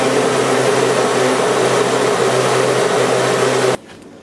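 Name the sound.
blender pureeing pumpkin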